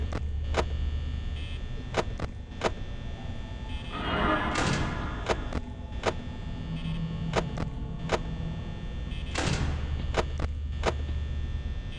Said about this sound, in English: That was Foxy's knock.